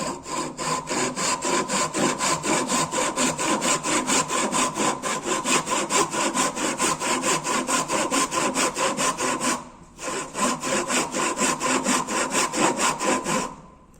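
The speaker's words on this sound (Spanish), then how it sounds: "pongo la madera en forma vertical en la prensa y voy aserrando, sosteniendo mi serrucho en forma horizontal" A hand saw cutting through wood clamped upright in a vise, with the saw held horizontal: fast, steady, rhythmic rasping strokes, loud and close, broken by one brief pause before sawing resumes.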